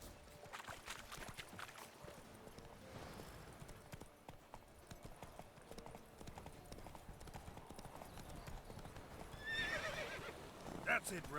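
Roach the horse in The Witcher 3 trots with steady clip-clop hoofbeats under game sounds and voices, then whinnies loudly near the end.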